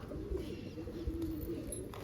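Low, throaty cooing from pigeons nearby, a continuous soft burbling over a quiet background.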